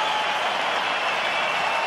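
Cricket crowd at Adelaide Oval applauding David Warner's triple hundred against Pakistan, a steady dense wash of clapping and cheering that holds at an even level throughout without any clear voice on top.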